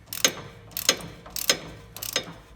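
A hand wrench ratchets a nut off a car's stabilizer link, giving four quick bursts of clicking pawl teeth at a steady rhythm, close up with no talk.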